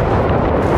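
Gunfire from a heavy-recoiling gun in the game Generation Zero, a dense, continuous booming burst filling the moment, loud and close with no pause between shots.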